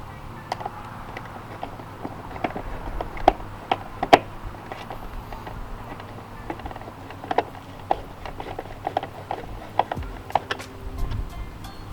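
A ratchet tightens two screws on the front bumper of a BMW F30 M Sport during a bumper conversion, giving a run of sharp, close mechanical clicks in short bursts over a steady low background.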